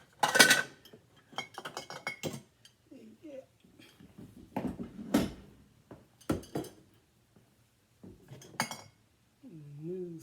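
Glassware, dishes and lids shifted around on a cluttered kitchen counter, giving scattered sharp clinks and clatters in bursts, close by, with someone talking between them.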